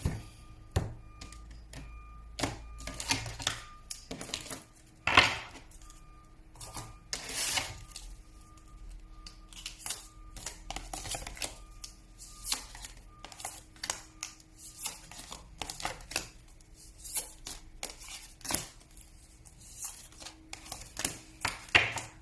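Soft, papery riffling and light clicks of tarot cards being shuffled continue at length, with faint electronic alarm beeps sounding intermittently in the background.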